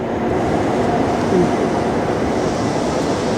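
A train rumbles through Antwerp railway station: a loud, continuous broadband roar fills the station hall with no clear breaks.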